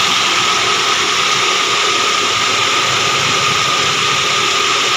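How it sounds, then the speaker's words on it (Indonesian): A car engine idles steadily while its air conditioner runs during a freon refill, producing a loud, constant broadband hiss and hum with no breaks. "Nah sekarang untuk mesin sama AC nya udah saya hidupin."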